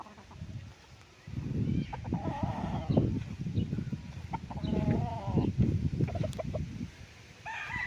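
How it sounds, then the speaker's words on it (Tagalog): Chickens on a farm in Nagcarlan, Laguna cluck and call near the coops, a busy flock of overlapping clucks and short squawks that rises and falls over steady outdoor noise. "May mga kulungan ng manok."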